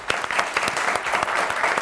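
Studio audience applause on the Turkish TV quiz show Kelime Oyunu, a steady run of brisk clapping with a few sharper claps standing out.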